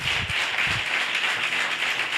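A church congregation applauds together, a dense wash of many hands clapping steadily and fairly close for a couple of seconds, with no voices over it.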